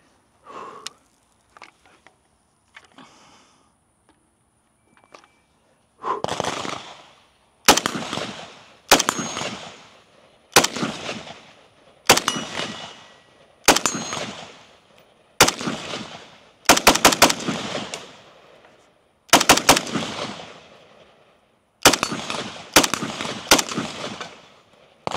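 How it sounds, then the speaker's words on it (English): SIG 551-A1 rifle fired outdoors: a few faint shots at first, then about a dozen sharp, loud single reports in a fairly steady rhythm, each with a short decaying echo. "So, anyways, enjoy this shooting footage."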